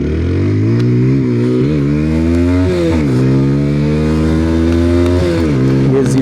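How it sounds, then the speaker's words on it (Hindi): A TVS Apache 160 4V motorcycle accelerates hard from a standstill in an acceleration test. The engine roars loud and close, revving up through the gears with brief dips at each shift. "और चलिए फ्रेंड्स, एक्सेलरेशन टेस्ट स्टार्ट करते हैं।"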